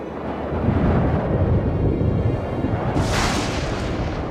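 Low, sustained thunder rumble from an approaching storm in a horse cartoon, rolling steadily, with a brighter hiss of wind or rain swelling in near the end; no talking.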